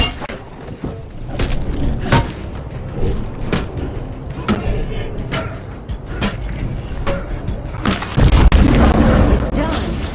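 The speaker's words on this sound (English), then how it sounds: "The plague heart is destroyed." A plague heart is destroyed in State of Decay 2, played at max settings, giving a loud, dense rumble of booming impacts and sharp hits that builds to a heavier burst near the end.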